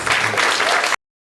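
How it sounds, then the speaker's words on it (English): An audience at an annual summit breaks into a short, loud burst of applause for a speaker, thick clapping that cuts off abruptly after about a second. "Can everyone please give him a round of applause?"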